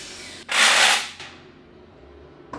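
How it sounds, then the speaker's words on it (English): A starter motor on a turbocharged mini Jeep skipping on worn flywheel teeth, giving a single loud, harsh grinding burst of about three quarters of a second that cuts off abruptly, close and without speech. "That is the noise of a starter skipping on something."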